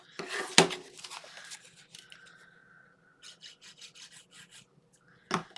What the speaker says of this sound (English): We're going to score it at 1/2 inch and 5/8 of an inch.